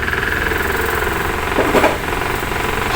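Electric fan motor on speed setting one, being tested by a mechanic after replacement: a steady mechanical hum and rattle with a brief louder whir near the end, close by with no talk.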